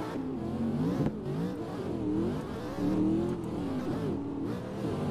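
A BMW M2 drifts in a chase run at Teretonga Park in a VR racing game, its engine revving continuously with sweeping rises and falls in pitch, loud and close, with no talking.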